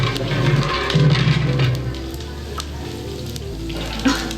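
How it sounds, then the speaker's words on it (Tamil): Mustard seeds, pepper, curry leaves and green chili frying in hot oil for a biryani, giving a close, steady sizzle with faint crackles and small stirring scrapes. "எண்ணெய் நல்லா காஞ்சிடுச்சு, அப்படியே மிதமான சூட்ல மிளகு கடுகு போட்டுக்கலாம்."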